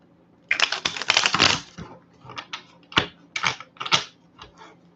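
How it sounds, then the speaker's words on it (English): Tarot cards shuffled close up: a fast riffling burst, then several shorter flicking shuffles and taps, alone with no talking. "Let's shuffle again."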